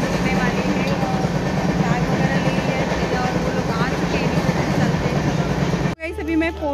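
Passenger train at a Delhi railway station at night, a loud steady rumble and rattle of carriages close by with crowd noise mixed in, cutting off abruptly near the end.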